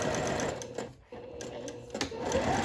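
A sewing machine basting piping onto a seersucker dress, its rapid mechanical stitching running in close, loud bursts with a couple of brief pauses.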